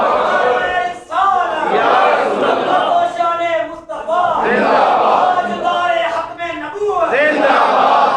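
A large crowd at a religious gathering roars a loud chanted response to a slogan in several powerful surging bursts, each swelling then breaking off, voices massed and close.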